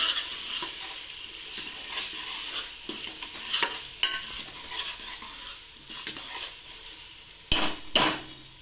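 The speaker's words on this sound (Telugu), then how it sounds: "ఉల్లిపాయ ముక్కల్లోకి ఈ అల్లం వెల్లుల్లి పేస్ట్ కొంచెం బాగా వేగాలండి" Ginger garlic paste frying with chopped onion in a pan for a country chicken and chana dal dish, a continuous hissing sizzle with stirring scrapes and a couple of louder clanks of a spoon against the pan near the end.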